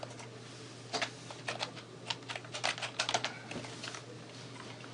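Command typed on a computer keyboard at a Linux command line, a quick irregular run of close key clicks in short bursts over a steady low hum, with no talking.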